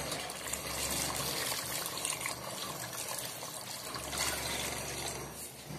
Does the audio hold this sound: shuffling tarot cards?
no